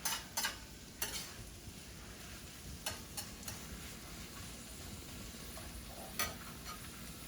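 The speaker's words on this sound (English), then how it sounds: "Just go like that, stir this up a little bit." Carrots and vegetables being stirred in a pan with butter and olive oil, with a soft steady sizzle and occasional sharp utensil clicks against the pan.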